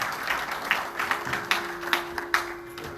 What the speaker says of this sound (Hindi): जोरदार तालियों से हम महाराष्ट्र को धन्यवाद करेंगे।